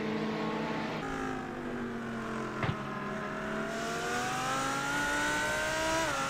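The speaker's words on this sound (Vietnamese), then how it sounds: "Tiếng động cơ V10 của chiếc Lamborghini Huracan GT3 Evo. Đang gào thét lên." A Lamborghini Huracan GT3 Evo V10 engine roars in a racing video game, a continuous high-revving wail climbing through the gears with brief shift dips and no talking.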